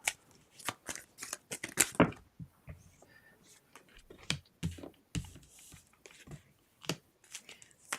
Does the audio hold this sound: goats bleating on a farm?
no